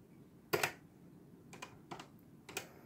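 Keys tapped on a TRS-80 Color Computer keyboard: a few separate clicks, one sharp double stroke and then lighter taps, close but quiet.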